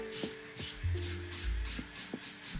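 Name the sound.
sanding a LARP foam sword blade by hand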